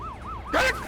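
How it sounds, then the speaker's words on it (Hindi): A police car siren wails in rising and falling sweeps, moderately close, joined near the end by a brief louder blaring tone. "पुलिस की गाड़ी"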